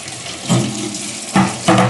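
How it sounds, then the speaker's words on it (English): Water running from a tap during cleanup, a steady rushing flow with louder surges at intervals, close and alone without talk. "I need to throw some water on here, so sorry for the noise"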